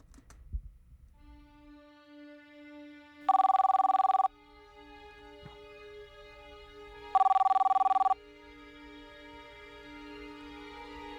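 A cell phone rings in a dramatized internet-safety scene. Two loud electronic ring bursts, each about a second long, sound several seconds apart over a quiet sustained background tone, with no talk.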